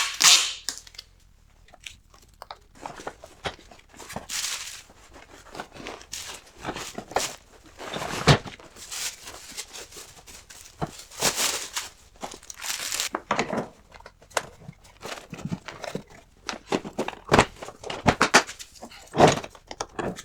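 Shop vac bag being pulled out and stuffed into a large plastic trash bag, irregular close crinkling, rustling and sharp plastic snaps in scattered bursts without speech.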